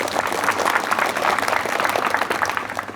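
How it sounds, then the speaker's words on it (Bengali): Dense, steady applause from a crowd greeting a barrister at a Bangladeshi election campaign gathering in a church, loud and continuous throughout with no break. "তাদের প্রতি সম্মানস্বরূপ একটা হাততালি দিতে চাই"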